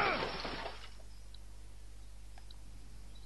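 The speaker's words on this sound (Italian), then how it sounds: "Così facile se rompi il vetro della macchina della polizia." The window glass of a police car shatters in The Walking Dead video game, a sharp loud crash that fades within a second, followed by quiet hum and a few faint clicks.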